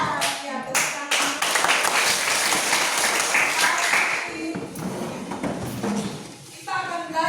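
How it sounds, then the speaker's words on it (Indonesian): Children in a classroom clap their hands together: a burst of many quick, overlapping claps, with voices talking and calling out over and between them. "Ya, tepuk tangan."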